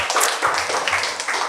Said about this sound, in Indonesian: Mari tepuk tangannya, manusia-manusia privilege.